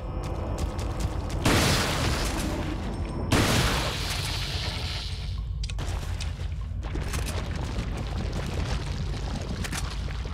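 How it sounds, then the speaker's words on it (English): Two heavy booming blasts from a shotgun in Resident Evil 4, roughly two seconds apart, loud over a steady mechanical game ambience with rattling textures and no voices. "This one didn't go down after that shotgun shot."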